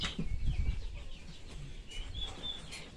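Chickens cluck nearby in a short burst of soft clucks and higher calls, with a brief flutter of wings near the start.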